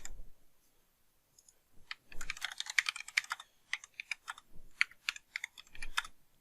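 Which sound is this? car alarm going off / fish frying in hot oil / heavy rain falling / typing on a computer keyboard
typing on a computer keyboard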